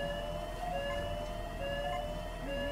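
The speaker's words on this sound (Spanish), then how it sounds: "Eso era una alarma." An alarm sounds in the video game Hitman, a steady electronic siren-like tone holding at moderate volume over quiet game background noise.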